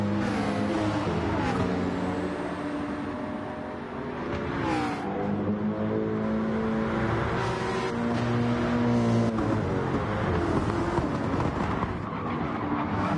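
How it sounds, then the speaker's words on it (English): Porsche and Mercedes race cars battling closely on the Sardegna circuit in Gran Turismo 7, their engines whining and sweeping up and down in pitch as they accelerate and shift through the corners. "but Dutchy with the cornering speed of the Porsche is able to keep it round the outside of the Mercedes."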